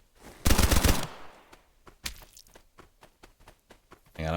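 Pistol shots from the video game Escape From Duckov: a loud opening burst followed by a string of sharp single shots at uneven intervals, each crisp and close.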